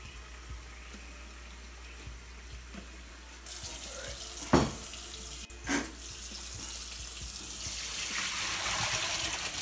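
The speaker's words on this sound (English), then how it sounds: "So we're going to put your cold water on it." Cold tap water gushes from a kitchen faucet over cooked pasta for a shrimp and veggie pasta salad. It starts partway through as a steady, close rushing hiss, with a couple of brief clunks in the middle and no talking.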